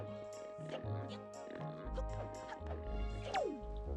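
Cartoonish pig oinks and squeals from the video game The Legend of Zelda: The Wind Waker, several short grunts over game music and effects, with people talking throughout.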